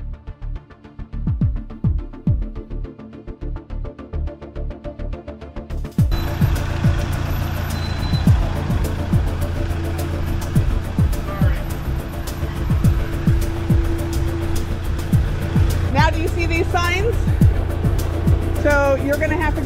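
A camper van engine idles and creeps while maneuvering on a narrow Italian street, low rumbling throughout and growing louder partway in, with people talking over it and a few high chirps.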